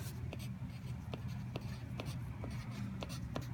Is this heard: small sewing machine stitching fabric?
no